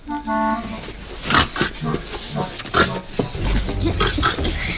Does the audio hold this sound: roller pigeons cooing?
no